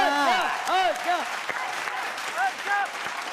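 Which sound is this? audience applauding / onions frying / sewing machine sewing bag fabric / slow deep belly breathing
audience applauding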